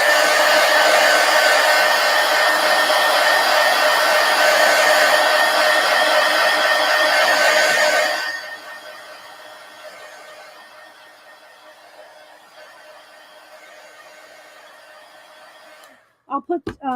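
A hair dryer blows loudly and steadily for about eight seconds to dry paint on an art journal page, then drops to a quieter low setting or winds down before cutting off at the end.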